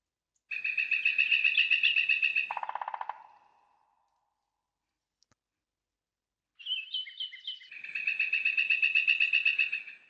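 Night birds ambience in a game audio mix, two bursts of rapid repeated chirping trills, clear and close, separated by several seconds of silence.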